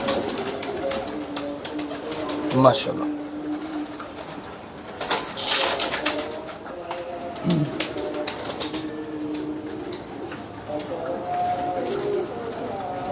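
Pigeons coo softly among a loft flock, with low throaty calls, a flutter of wings and a voice speaking over them now and then.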